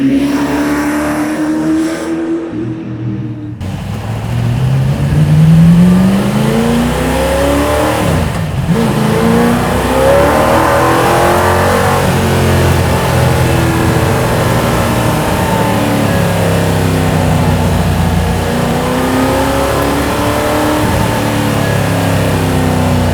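Loud car engine fitted with mufflers revving hard and accelerating through repeated gear changes, rising and falling harmonic whines over a deep exhaust roar heard close and continuous for over twenty seconds, with a brief dropout near the start.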